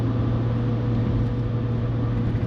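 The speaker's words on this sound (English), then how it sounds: "So there is some wind noise coming from the front of the car." Wind rushing in from the front of a 1990s VR6 car cruising downhill in fifth gear on light throttle, a steady broad roar with a low hum, loud and continuous with no talk.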